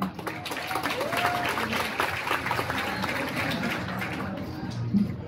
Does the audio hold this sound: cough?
no